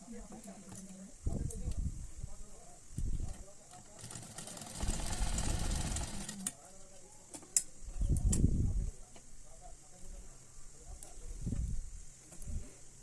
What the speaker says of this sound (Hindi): मैं ऊपर में एक सिलाई लगाऊंगी कमर के पास